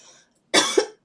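A single loud, close cough bursts out after a brief quiet, followed a moment later by the start of another.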